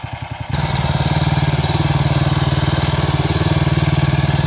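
The engine of a skid steer mini loader fitted with a hydraulic auger runs close and loud as the machine turns around, a steady throbbing mid-pitched drone that jumps up in revs after a brief lower idle.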